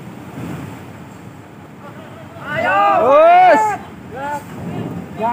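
Sea waves toss a boat, with steady surf and wind rumble under a voice, while a loud, wavering cry swells in the middle, close to the microphone.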